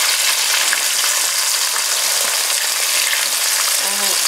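Chicken fingers fry in hot, bubbly oil, giving a loud, continuous, dense sizzle and crackle close by, with a faint clink near the end and no voices.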